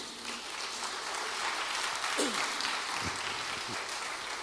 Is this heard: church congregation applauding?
yes